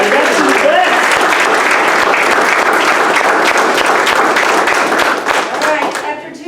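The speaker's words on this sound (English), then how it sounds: "So let's give them a round of applause." Dense, sustained audience applause at a military graduation ceremony, loud and steady clapping filling the room, tapering slightly toward the end.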